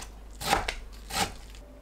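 Two crisp knife strokes slice through kimchi on a cutting board, each a short crunchy chop about half a second apart, close and clear.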